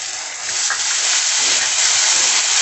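Tomato and cashew paste hitting a hot pan, a loud steady sizzle that swells after a brief start and holds as a bright, continuous hiss, with no talking.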